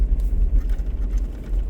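A car creeps slowly down a snowy hill toward a corner, giving a steady, close, low rumble of engine and tires with no voices.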